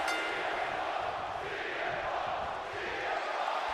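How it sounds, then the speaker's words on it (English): A dense, steady roar of a large crowd cheering and chanting in the WWE 2K25 wrestling video game, loud and continuous throughout with no break. "The crowd already loud again for CM Punk, chanting for CM Punk"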